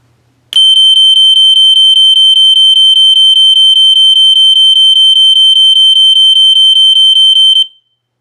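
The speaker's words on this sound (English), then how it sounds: "now I set it to continuous on 3000 Hertz" A late-1990s System Sensor fire alarm horn set to a continuous 3000 Hz tone on low volume sounds a piercing, steady high-pitched blare, very loud and close, starting abruptly and holding unbroken for about seven seconds before cutting off, with no talking.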